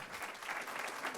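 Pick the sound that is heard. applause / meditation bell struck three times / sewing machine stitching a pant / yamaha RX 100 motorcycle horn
applause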